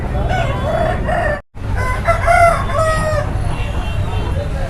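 Roosters crow and cluck at a busy country chicken market in Ongole, several loud, close calls in succession amid a crowded background murmur of people.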